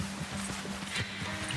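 Horse hooves galloping in Red Dead Redemption 2, a quick rhythmic clip-clop of rapid hoof beats at moderate distance with a faint snort, no voices over it.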